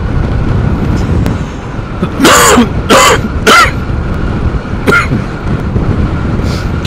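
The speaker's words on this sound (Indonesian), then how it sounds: "kalau suara batuknya agak kenceng" A few sharp coughs close by, three in quick succession and then a softer one, over a low background hum.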